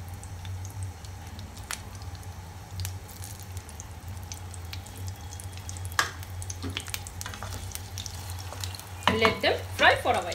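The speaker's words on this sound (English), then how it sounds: "we are going to fry the boiled potatoes or uble hue aloo" Boiled potatoes fry in hot oil for a spinach-free broccoli potato dish, giving a steady close sizzle over a low hum, with a few utensil taps and a busier burst of crackling near the end.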